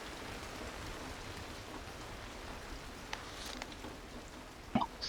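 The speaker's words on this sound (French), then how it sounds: "on va attendre que la pluie elle passe" Soft, steady rainfall in the video game Cairn patters at a low level, with a few sharper drip and tap sounds near the end.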